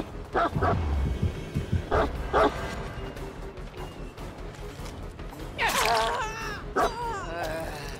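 Dog barking in the Dead by Daylight video game, several sharp barks and yips in quick bursts near the start, then a whimpering, whining run later on, loud over steady game background noise.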